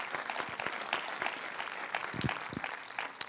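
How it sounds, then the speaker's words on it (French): An audience at a film festival closing ceremony in Saint-Jean-de-Luz applauds, a dense steady patter of many clapping hands with a few louder claps near the end. "Ça mérite des applaudissements."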